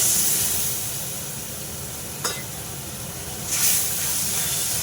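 Ginger and green chili paste sizzles and hisses steadily in a pan, a low continuous fry with a couple of brief louder spits near the middle and end, no talking.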